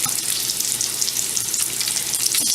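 Strips of bacon sizzle loudly and steadily in a frying pan, close up, with constant crackle and spitting fat and no one talking.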